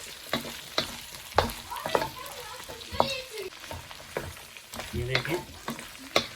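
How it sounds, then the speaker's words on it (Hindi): Okra and onion frying in oil in a pan, a close sizzling crackle broken by repeated scraping stirs and spatula knocks, with a brief spoken remark midway. "इसको अच्छी तरह हमने ऑयल में भून लेना है"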